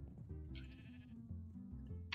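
Sheep in the Minecraft video game bleat repeatedly in short wavering calls, several overlapping bleats close and loud over a steady game soundscape, with no talking.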